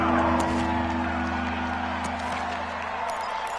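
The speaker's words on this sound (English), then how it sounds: "Here comes a big one as this crowd gets up making some noise." Stadium crowd roar from a PS4 football video game, a steady broad wash of cheering and noise with low constant hum, loud and continuous throughout with brief whoops.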